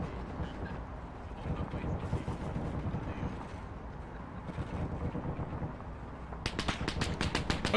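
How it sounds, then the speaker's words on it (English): Rapid bursts of automatic gunfire crackle in the video game Arma 3 during a co-op convoy mission, mostly muffled and distant, growing sharper and louder near the end over rumbling background noise. "More shots in the valley."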